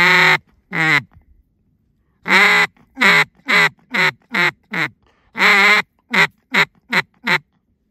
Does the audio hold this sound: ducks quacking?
yes